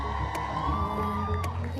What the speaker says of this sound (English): Let's clap for her, guys, as she comes in.